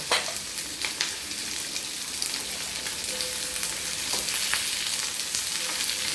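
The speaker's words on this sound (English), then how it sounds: "I'll fry this till it becomes translucent, and then I'll add the cashew nuts also." Vegetable korma base frying in a pan, with onions cooking until translucent before cashew nuts go in; a steady, fairly loud sizzle runs throughout, with a few faint stirring scrapes and no talking.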